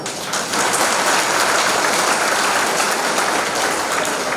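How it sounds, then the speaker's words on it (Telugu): A school assembly audience clapping hard together, a dense, loud wash of applause rising quickly and holding steady to the end. "అందరూ గట్టిగా చప్పట్లు కొట్టాలి"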